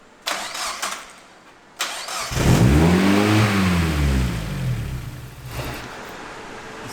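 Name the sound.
race car engine running at wide open throttle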